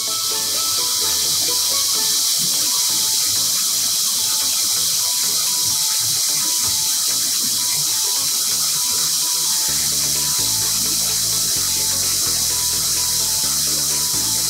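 Water streams steadily from a Cobra EL-3013 tap into a basin in a continuous, close hissing gush, with a few soft knocks toward the end and no talk.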